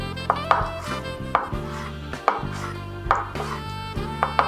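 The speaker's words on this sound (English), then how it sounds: "So I'm just cutting on a bias. This is one of my favorite ways to cut green onions." A knife slices green onions on a bias on a cutting board set over a wet towel, making crisp, rhythmic cuts roughly every second over steady background music.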